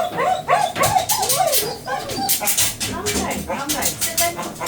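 A show-type dog, an English show breed or poodle, whimpers, yips and barks repeatedly during a grooming session with shampoo and conditioner, loud and close, the cries rising and falling over steady noise.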